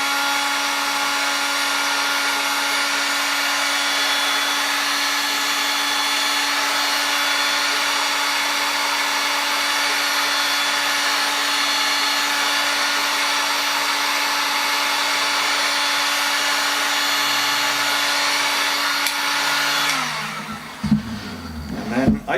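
A heat gun blows steadily on drum wrap over a wooden drum shell, a constant loud whirring hiss with a steady hum that cuts off near the end, followed by a few handling clunks.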